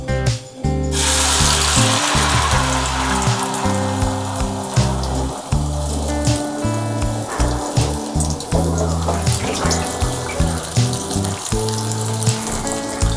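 Beaten egg poured into hot oil in a pan for a vegetable omelette, giving a loud, close, continuous crackling sizzle that starts suddenly and keeps going steadily without talk.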